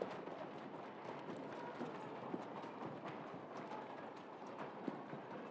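Video game horse hooves clip-clop at a steady, moderate pace over a dense, continuous background of ambient noise in Assassin's Creed Syndicate, fairly quiet and without speech.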